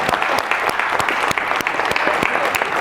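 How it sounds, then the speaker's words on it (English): A school late-night talk show audience applauds a student contestant after a teachers-versus-students game show round, with a steady wash of clapping and sharper individual claps standing out. "Give her a round of applause."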